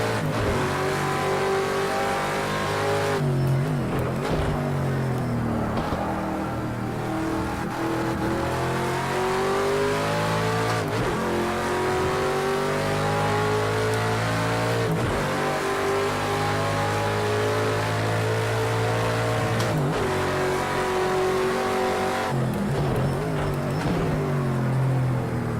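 A BMW race car engine in the video game Project Cars 2 revs hard while drifting in on the rear brake, a loud continuous roar rising and falling in pitch as the throttle surges and dips.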